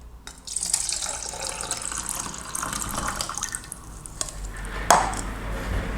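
Tap water runs steadily over tomatoes being rinsed in a sink, a continuous splashing hiss with a sharper clatter near the end.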